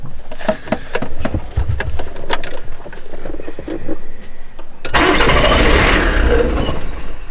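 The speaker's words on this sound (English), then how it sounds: "the engine started but then cut off right away" A few clicks and rattles, then a car engine started with a newly cut key suddenly catches and runs loud and close with a rough, steady roar until the end.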